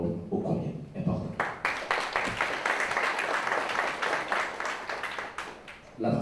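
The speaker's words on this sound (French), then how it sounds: "nous vous prions d'applaudir le ministère du Commerce et de l'Industrie pour cet effort ô combien important" Audience applause for Haiti's Ministry of Commerce and Industry at a digital platform launch event, dense clapping building after a brief spoken opening and continuing steadily at moderate volume for several seconds.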